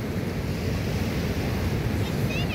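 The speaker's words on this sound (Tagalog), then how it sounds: "dito po tayo sa dagat. Ayan o, nagpahangin-hangin" Sea waves roll onto a beach under a strong wind that buffets the microphone, making a continuous, loud roar of surf and gusts with no clear breaks.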